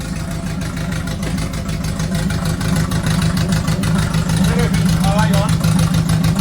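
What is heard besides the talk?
MK1 Ford Fiesta engine revving, capped around 2400 RPM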